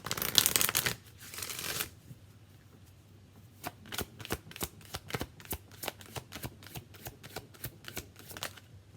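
An oracle card deck is shuffled up close: a brief riffle burst, then a quiet pause, then a long run of quick, evenly spaced card slaps and flicks, with no voices.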